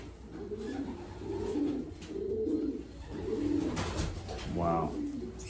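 Racing pigeons coo in a loft, a steady series of low, rolling coos repeating close by, with one louder burst near the end.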